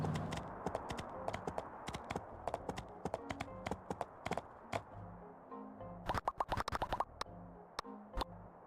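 Horse hooves clip-clop in the video game Sandrock, a quick, irregular series of sharp taps that gathers into dense bursts, quiet and close with nothing else heard.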